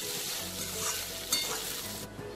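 Poha with salt and fried peanuts is stirred in a pan, producing a soft steady sizzle with light scraping from a utensil, fairly quiet and close, with no talking.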